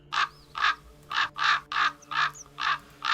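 Raven in the video game Broken Ranks cawing in a steady series of seven harsh, evenly spaced calls, close and clear over a faint low hum.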